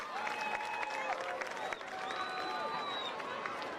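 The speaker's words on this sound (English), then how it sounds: "Let's give a big round of applause to these athletes and their coaches." Crowd at a high school football game applauding a kindergarten flag football team, steady clapping and some cheering from stands, with whistling tones and voices mixed in the background.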